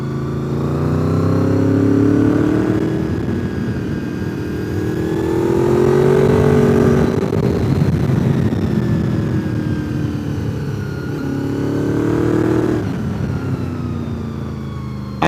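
Motorcycle ridden on the Tail of the Dragon at Deals Gap, the engine rising and falling in long swells as it works through the curves, steady and fairly loud with no talking.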